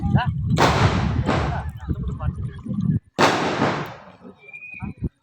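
Firecrackers burst nearby at Nellarachal in Wayanad: three loud, sharp cracks with a rumbling tail, heard over a low background of voices and ambient noise.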